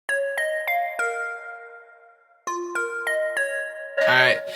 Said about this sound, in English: The next sound we got is in the bells category. It's called Detuned Wave Bells.